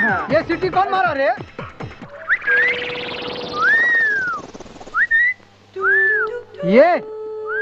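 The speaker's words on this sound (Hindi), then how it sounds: "ये सीटी कौन मारा रे?" A person whistles in a rising, bending tune with several separate phrases and long gliding notes, loud and close, with talk and film background noise around it.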